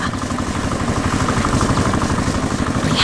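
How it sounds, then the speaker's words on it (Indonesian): The engine of a red tractor working in a green cotton field gives a loud, steady, rhythmic chugging throb with no pauses. "Lihatlah, traktor merah sedang bekerja keras di tengah ladang kapas yang hijau dan lebat."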